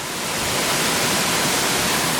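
Billy Browns Falls, a fan-shaped waterfall on a creek in Tasmania, roars as a steady, dense wash of falling water heard up close, with no talk.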